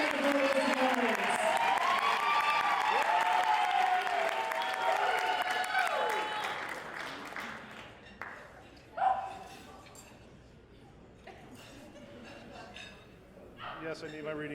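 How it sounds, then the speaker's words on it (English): Sustained applause from a wedding reception crowd fills the first several seconds, fading out around the midpoint, followed by quieter room noise and a few scattered sounds. "give a warm round of applause"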